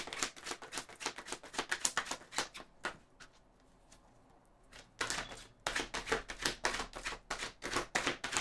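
Tarot cards being shuffled and drawn, with rapid crisp riffling bursts for about three seconds, a quieter pause, then another fast run of close card flicks and slaps.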